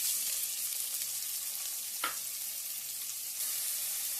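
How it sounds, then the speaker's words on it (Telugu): Onions fry in ghee for a mutton curry, making a constant soft hiss and crackle with one brief clink partway through. "కొద్దిగా నెయ్యి మనం ఉల్లిపాయలు కూడా వేసేసుకుందాం"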